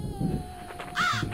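A crow companion in a vampire RPG video game gives a couple of harsh caws over a steady tonal game soundtrack, with a brief rasping burst standing out.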